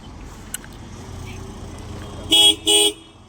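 A car idles with a low engine rumble, then sounds its horn in two loud, short blasts close by, each lasting about half a second.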